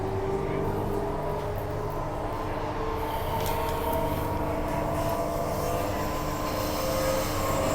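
Continuous loud rumble and hum of a Transperth A-series electric train running at speed through Perth Stadium station, steady wheel and motor noise with faint high squeals.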